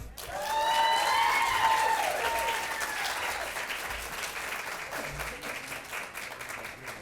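An audience at an evening township awards ceremony applauds loudly as an honoree comes up, with cheers and whoops rising over dense clapping that gradually thins toward the end.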